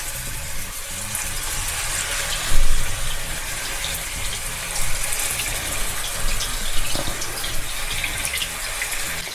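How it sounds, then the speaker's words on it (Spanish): Meatballs searing in hot oil over high heat in a pan, giving a steady, loud broadband sizzle with small crackling swells, no talking. "Las albóndigas las voy a poner a dorar en aceite para que se sellen bien."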